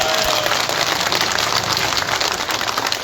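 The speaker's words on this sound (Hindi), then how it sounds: "इससे ज्यादा जोर से एक बार राहुल गांधी के लिए ताली बजाइए" A large crowd at an election campaign rally in Jamshedpur claps hard and continuously for Rahul Gandhi, a dense, steady wash of applause heard alone.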